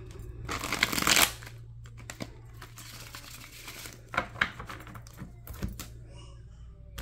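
Tarot cards shuffled by hand, a dense riffling burst near the start followed by softer intermittent card slides and taps, close and quiet, with a low steady hum underneath and no talking.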